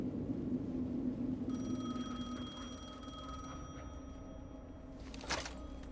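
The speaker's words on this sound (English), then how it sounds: "The phone again." A telephone rings repeatedly in the video game Alan Wake II, its harmonic ringing tone starting about a second and a half in and continuing steadily over a low ambient drone, with a brief sharp burst near the end.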